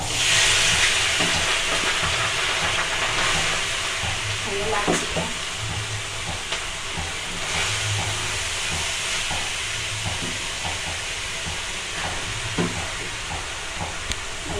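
Carrots frying in very hot oil with cloves and cardamom for halwa, a steady hissing sizzle throughout with occasional faint stirring knocks, close and continuous.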